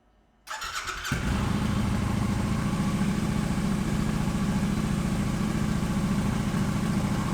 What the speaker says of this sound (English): So I will be starting the bike for the first time after I put everything together.